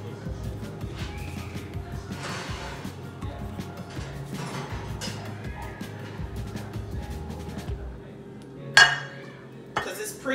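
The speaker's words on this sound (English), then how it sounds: "I'm going to get my baking dish out of the oven." A pre-greased baking dish for cornbread is lifted out of an oven amid quiet kitchen rattling, ending in a few sharp metallic clanks and clinks near the end.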